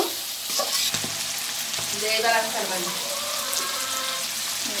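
Boiled cow tripe stir-fried with spices in a pan, a close, busy sizzle with scraping stirs and bubbling wet sputters, while a voice can be heard faintly underneath.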